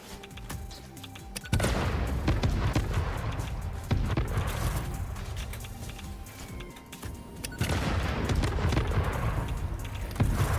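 Several rapid nobelisk explosions from the video game Satisfactory burst out in heavy, booming clusters with crackling debris, loud and close, returning in waves with short pauses between.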